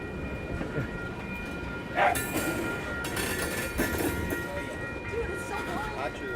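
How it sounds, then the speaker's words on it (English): A long freight train rumbles steadily past in San Diego with rhythmic rail clatter and a brief horn-like tone, heard from nearby with some faint voices in the background. "This is the longest train in San Diego."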